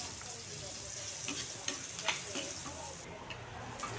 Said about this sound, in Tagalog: Ito maggisa na ako